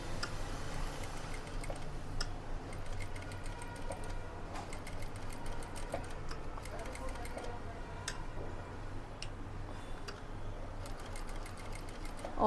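A treadle sewing machine stitches at a steady, moderate pace with a soft, rhythmic ticking and whirring, fairly faint and continuous throughout.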